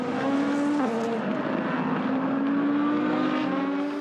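A pack of GT race cars at speed in a European Le Mans Series race, engines droning loudly together with a sustained roar and a slight pitch shift as they pass.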